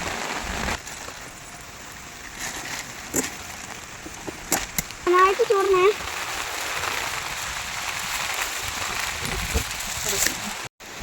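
Rain patters steadily on a surface, with a brief voice and a few sharp knocks and clatters breaking through the soft wash.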